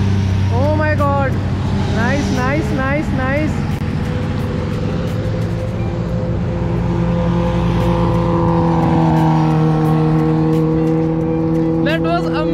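Motorcycles including a BMW 1250 GSA and a Suzuki Hayabusa pass close by on a road near a highway food plaza, a loud continuous engine roar with rising and falling revs under background talk.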